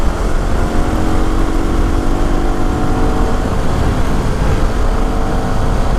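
A Yamaha WR250R motorcycle riding Eureka Canyon Road in the Santa Cruz Mountains, its engine a steady, loud drone mixed with wind rush, with no letup.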